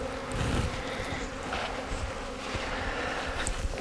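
Swarm of bees buzzing near a catch box, a continuous close drone with slight swells and scattered light knocks and wind rustle.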